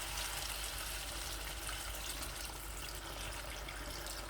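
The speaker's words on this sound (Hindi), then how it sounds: "अभी इस मौके पे मैं पानी जो है वो ऐड करूँगा" Water is poured into a pot of desi chicken curry after the oil has separated from the masala, a steady, close rushing splash that stays constant and unbroken from start to finish.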